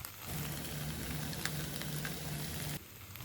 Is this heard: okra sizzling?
yes